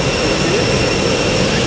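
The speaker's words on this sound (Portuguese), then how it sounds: "Olha o tamanho daquele avião" Loud, steady roar of an airplane's jet engine at an airport, a close, continuous broadband whine and rumble with no voices over it.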